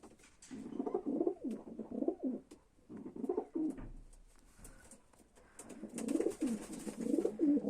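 A Polish homing pigeon coos in repeated soft, throaty bursts, pausing briefly between phrases, close by with faint background noise.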